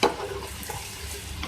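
Sliced onions and green chillies fry in a pan with a faint, steady sizzling hiss, after a brief soft clink at the start.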